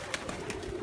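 Pigeons in a dovecote give a few soft, low coos, faint and close, within a short stretch of quiet room ambience.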